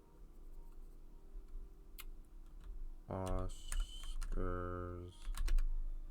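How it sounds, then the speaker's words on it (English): Typing on a computer keyboard while making an album cover in Photopea: two quick bursts of loud, close clicking key presses. A soft voice speaks briefly between the bursts. "Now we can start typing in"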